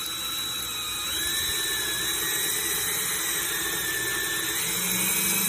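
A reamer bores out a custom fishing rod grip with a steady, loud whine of a powered tool, holding a constant tone for the whole stretch with shifting overtones as it cuts material.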